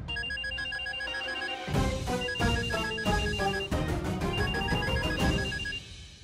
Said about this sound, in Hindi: अरे फोन ही नहीं उठा रही है वो।